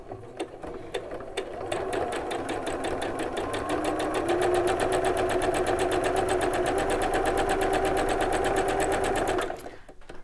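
A sewing machine stitches a patchwork block along its diagonal, starting with a few slow stitches and then running a fast, even mechanical chatter close up for about eight seconds before stopping abruptly.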